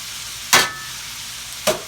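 Onions cook in a skillet with a soft, steady hiss, broken twice by short, sharp utensil scrapes against the pan, and no one speaks.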